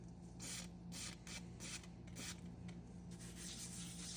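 A cylinder head valve from an old big-block engine is scrubbed with a coarse Scotch-Brite pad and intake valve cleaner, giving a faint, steady rasping hiss in repeated strokes over a low mechanical hum.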